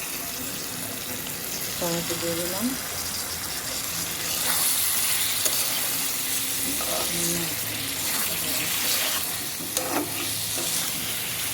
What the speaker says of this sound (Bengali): আর এই যে মশলাটা এখন আমার কষতেছে, এর মধ্যে আমি এই কষানোর মধ্যেই কয়েকটা টমেটো দিয়ে দিলাম।